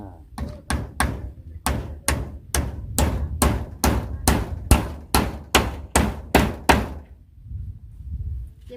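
Someone hammers nails into zinc roofing sheet with about fifteen sharp, ringing blows in a fairly steady rhythm, each one loud and close with a short metallic decay. The strikes stop near the end, leaving a low background.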